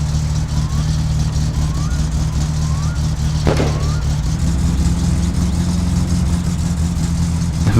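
A truck engine drives steadily through the game My Summer Car, a loud continuous low rumble with a brief sharp clunk midway and faint chirps in the background.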